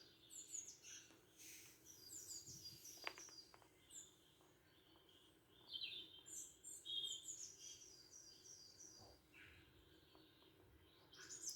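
Birds chirping and singing from a cat TV bird show playing on a screen indoors: repeated bright tweets and short trills in irregular bursts, fairly faint, over a quiet room background.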